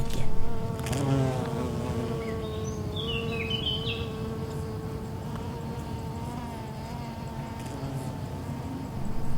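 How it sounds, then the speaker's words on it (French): Bees and other insects buzz steadily while pollinating flowers in Mediterranean garrigue scrubland, a continuous close hum with a few brief bird chirps above it. "Les insectes reprennent leur grand travail de pollinisation."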